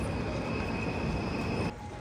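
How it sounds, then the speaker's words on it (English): A tram rolls along a town street in Freiburg, giving a loud, steady rumble with a thin high whine that cuts off abruptly near the end, leaving quieter background noise. "As you're walking around town, don't get hit by a tram."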